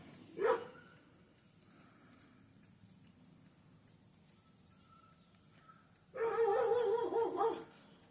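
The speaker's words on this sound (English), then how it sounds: "That's my neighbor's dog, not mine." A neighbor's dog barks in a quick burst of several barks at middle distance, with one earlier single yelp, in a quiet indoor room otherwise nearly silent.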